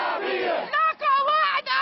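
A protest crowd in Jordan chants slogans in short, loud, unified bursts with brief breaks between them. The voices are close and forceful.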